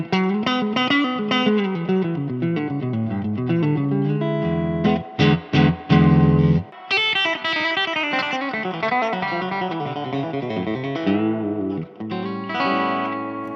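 Electric guitar with the reverb turned all the way up plays a bluesy, sustained melodic line with bends and a few choppy stabs midway, loud and close, each note washing into a long reverberant tail.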